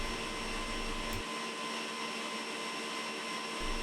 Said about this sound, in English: hear a little bit of a wet noise, and that is the liquid leaching out of the whipped cream as it splits into fats and liquids